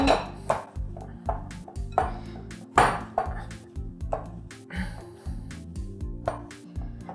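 Cooked potatoes being mashed in a bowl by hand: a close, steady run of dull knocks with bright clinks as the masher strikes the bowl, repeating in an uneven rhythm with no talking.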